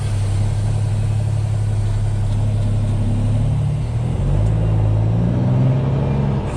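An overloaded truck's engine brake holds it back on a downhill descent in fourth gear, a loud, continuous deep rumble that shifts slightly in pitch partway through, heard close from the cab.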